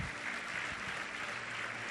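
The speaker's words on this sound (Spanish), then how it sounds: "Así que demos un aplauso a ese hecho" A church congregation applauds during a sermon, a soft, distant wash of steady clapping throughout.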